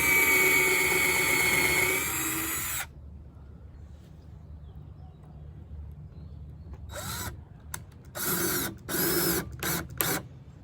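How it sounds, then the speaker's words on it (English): A power drill whines steadily at first, then stops; after a quiet pause it returns in several short, stuttering bursts as screws are driven into wood for a chicken perch. "when you get ready to drill the screws in"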